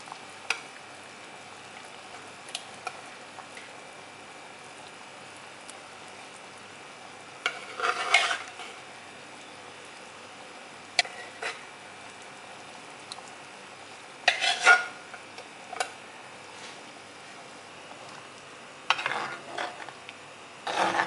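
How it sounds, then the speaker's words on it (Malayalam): A fish curry with coconut paste simmers quietly while a spoon stirs the fish now and then, sending occasional scraping bursts through the low bubbling. "മീൻ ഇട്ടതിന് ശേഷം നന്നായി ഇളക്കിയിട്ടുണ്ട്"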